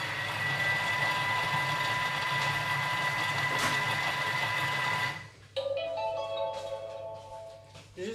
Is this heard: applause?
no